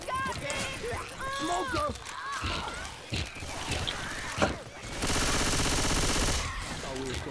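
Gunfire in Left 4 Dead 2 while fighting zombies: scattered shots under voices chatting, then a loud, sustained rapid-fire burst near the end.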